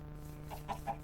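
A Minecraft chicken in a hardcore-mode game gives two or three short, close clucks in quick succession over a steady low background hum, with no talking.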